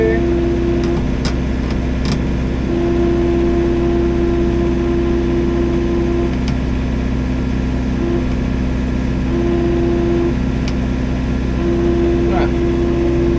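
A tractor engine idles steadily with a brush hog attached, a constant close drone with faint intermittent higher whines and occasional clanks.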